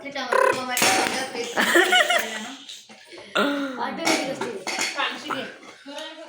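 A metal tiffin lunch box being opened, with clinking and scraping of metal lids and containers amid close talk and a laugh, several sharp clanks spread through the moment.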